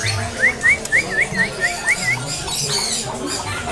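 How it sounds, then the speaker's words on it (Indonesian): A caged jalak putih (white starling) at a bird market sings a run of rapid rising whistled chirps, repeated about eight times, over busy background chatter and market noise. "Nah, ini untuk jalak putih gacoran."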